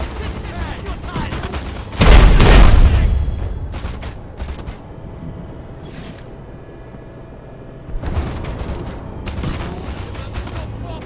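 Destroy All Humans 2 gunfire and explosions, a heavy booming blast followed by scattered crackling shots and later another burst of fire, loud with busy mechanical clatter in between.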